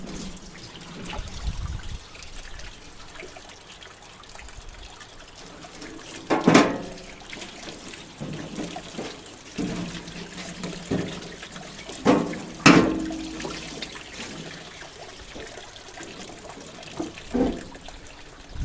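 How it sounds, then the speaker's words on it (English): Water runs from a tap in a workshop where rusty tools soak in hydrochloric acid, a steady trickle broken by several louder splashes and clanks as parts are handled. "have some water going."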